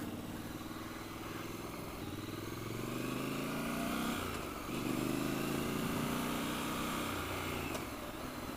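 Triumph Scrambler 1200 motorcycle ridden off-road through mud, its engine droning steadily and loudly with slight rises in revs, continuous and close, with no talk.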